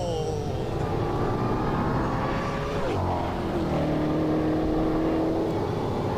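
A Ford Mustang and a Dodge Challenger, V8 muscle cars, accelerate in a race, a loud steady engine roar with rising then shifting tones through gear changes, sustained for several seconds.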